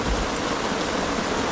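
Steady rain falls during a camping trip at Falls Lake, a dense, continuous hiss of drops on surfaces, loud and close, with no voices.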